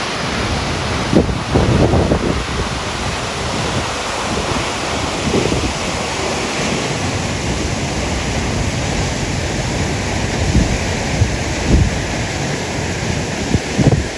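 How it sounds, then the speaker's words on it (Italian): The Duden waterfall pours straight into the sea at the river mouth, making a loud, steady roar of falling water mixed with surf and wind buffeting the microphone, with no voices. "C'è questa cascata che sfocia direttamente in mare."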